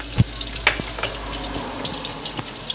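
Onions frying in a pan with garlic, a soft steady sizzle broken by a few sharp clinks and stirring taps.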